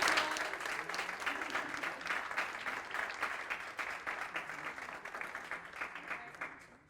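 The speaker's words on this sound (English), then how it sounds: "Can we give them a gigantic round of applause?" A college Black History Month celebration audience applauds a jazz combo, the clapping strong at first and slowly thinning and fading over several seconds.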